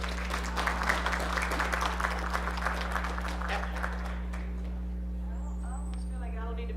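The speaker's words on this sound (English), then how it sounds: "Please give a round of applause again for Dr. Rhonda Williams." An audience at a talk on women and police reform gives a round of applause. The clapping is lively for about four seconds and then fades out over a steady low electrical hum, and a voice follows.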